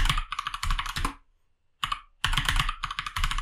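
Rapid clattering keystrokes on a computer keyboard entering a password, in two dense close bursts separated by a brief pause, with no speech.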